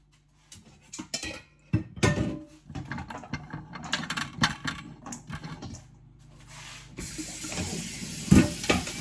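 Red peas for Ital soup rinsed under a running kitchen tap, with water splashing and dishes clattering and clinking in the sink. The close, uneven clatter swells into a steadier rush of running water near the end.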